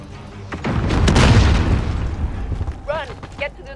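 A grenade explodes in the battle royale game Call of Duty Warzone on Rebirth Island, a loud close boom that swells and rumbles for about two seconds before fading, with shouted voices breaking in near the end.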